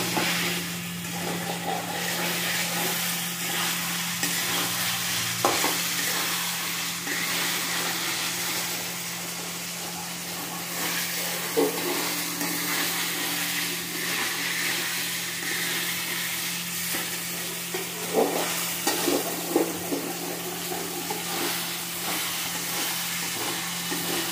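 Bengali-style egg curry hisses and sizzles in a pan after water is added, a steady, fairly loud broadband hiss that continues without a break, with a few small pops and bubbling bursts and no talk.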